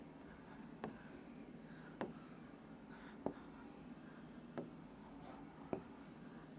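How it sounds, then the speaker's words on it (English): Marker or chalk writing on a board during an aptitude-maths lesson, faint steady scratching broken by a few sharp tapping strokes, heard alone without talk. "I am writing this one."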